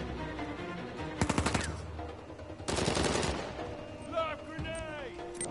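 Two sharp bursts of machine-gun fire in Uncharted: A Thief's End, the first a short rattling volley and the second longer and denser, followed by fainter ricochet-like whines, with a voice speaking around the shots.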